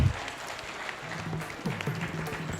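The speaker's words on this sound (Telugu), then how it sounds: "ఒకసారి చప్పట్లతో వారికి ఆహ్వానం పలుకుదాం" An audience claps steadily in welcome for the new organizing secretary of the Pyramid Spiritual Trust in Hyderabad, with a dense, even wash of hands that holds through the clip while a voice briefly murmurs over it near the end.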